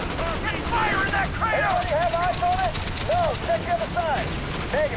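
Rapid machine gun bursts crackle in a Call of Duty: Black Ops battle, repeated sharp volleys under someone talking over the gunfire.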